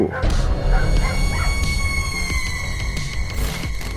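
Dogs bark and yip at a thief in a noisy, chaotic scene, with several sharp barks among rumbling background sounds.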